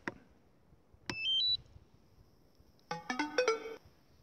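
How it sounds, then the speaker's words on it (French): A DJI drone remote controller powers on with a few clear electronic beeps: a short click, then a rising two-tone chirp, and after a pause a quick burst of brighter chimes, all close and alone in a quiet room. "On allume la RC."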